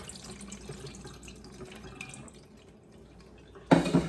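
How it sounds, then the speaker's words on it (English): Whey from freshly churned cream is poured through a colander into a kitchen sink, a soft, low liquid trickle and splash that grows into a louder gush near the end. "I'm just going to pour it out into the colander. The whey goes into the sink."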